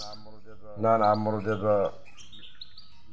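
Goldfinch chirping in a loud, bright burst of rapid tuneful notes, preceded and followed by softer twittering, with someone speaking nearby.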